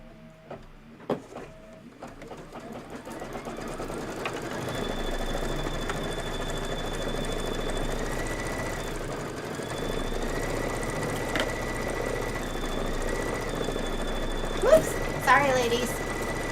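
A sewing machine stitches a quilting sew-along project, starting with a few clicks and then settling into a steady mechanical whir, with a voice talking briefly over it.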